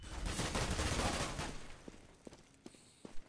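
Rapid automatic gunfire in Counter-Strike: Global Offensive bursts loudly for about two seconds, then gives way to a few scattered shots and footstep-like clicks.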